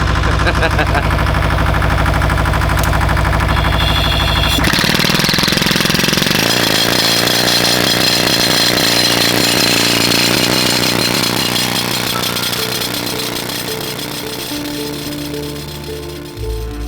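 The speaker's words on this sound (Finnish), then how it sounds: "Kivien käsiporaaminen on todella raskas työosuus" A loud, continuous hammering rattle of a hand rock drill boring blast holes into stone, its pitch shifting midway and easing slightly toward the end.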